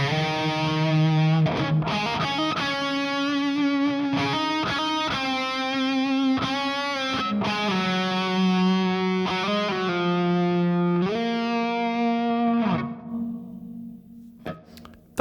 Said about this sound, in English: I can use it to be a much more obvious echo.